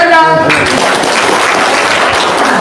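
Audience applause breaks out right after a voice at a talk about getting rich, a dense crowd clapping that fills the room and holds steady for a couple of seconds.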